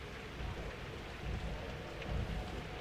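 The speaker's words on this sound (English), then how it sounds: "You shouldn't just stand in the rain." Rain falls steadily in the video game Pathologic 2, a soft continuous hiss with low rumbling swells like distant thunder, quiet and without talk.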